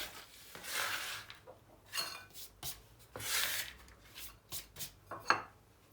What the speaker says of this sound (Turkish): Kullanacağımız cevizleri bıçak yardımıyla ufaltalım.